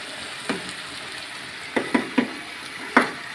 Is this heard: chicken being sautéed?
yes